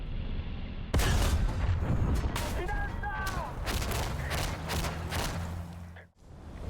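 Tank cannon fire in the War Thunder video game, a sudden loud boom followed by rumbling battle noise and sharp impacts, with a voice talking over the gunfire.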